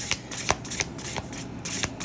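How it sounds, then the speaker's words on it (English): A deck of thick, slightly slippery tarot cards is shuffled by hand, giving quick crisp riffling bursts in an uneven rhythm, close and moderately loud with no voices. "sometimes you have to change up how you're shuffling according to the texture of the cards"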